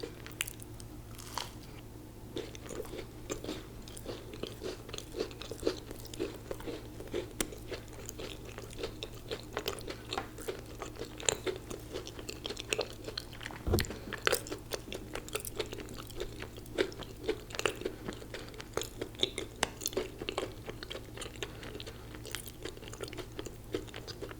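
Close-miked eating of Crumbl cookies in tres leches, caramel apple, maple and pumpkin flavors: a long run of soft crunchy bites and moist chewing, quiet and intimate, with no talking.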